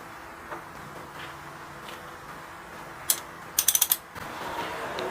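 A ratcheting wrench tightens a spark plug on a 2003 Suzuki SV650 K3. A single click is followed by a quick burst of four or five sharp ratchet clicks, set against a quiet mechanical background with no talking.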